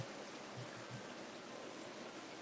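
Water running steadily in an outdoor garden water feature at a nursery and garden center, a soft, even rushing trickle heard faintly and alone.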